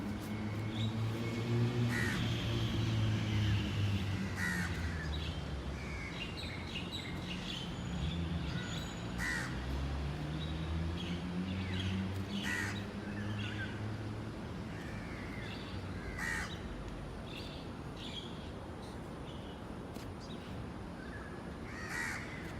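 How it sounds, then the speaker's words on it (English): Crows caw repeatedly from trees in Singapore, harsh calls recurring at irregular intervals over a steady background of ambient noise, fairly close and clear. "So there's crows there, crows in the trees behind me."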